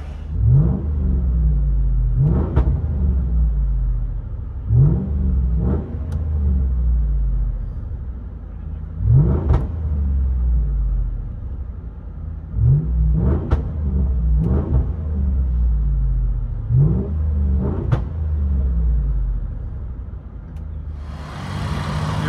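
A 2011 Land Rover LR4 HSE with a 5.0L V8 and a muffler delete rumbles from inside the cabin. Repeated sharp revs rise and fall over a deep, steady idle, loud and close.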